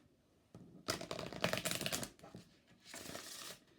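Lenormand cards are shuffled in quick, crisp riffling bursts, one longer flurry followed by a shorter one after a pause, close and fairly quiet.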